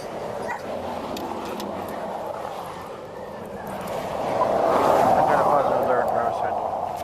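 A police drug-detection dog barks and yips during a roadside vehicle search, with repeated sharp calls and whimpers under ongoing traffic noise and nearby talk.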